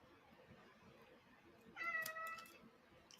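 A cat meows once close by, a short harmonic cry rising over a quiet room during a live crafting session as the cat head-butts its owner.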